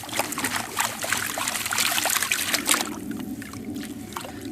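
Water sloshing and trickling steadily in a gold pan being worked fast with limestone and granite porphyry gravel, a continuous close wet swishing with no voices.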